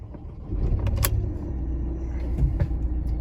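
A Ford Transit MK8 van engine cranks briefly and catches, settling into a low idle rumble, with a couple of clicks at the start.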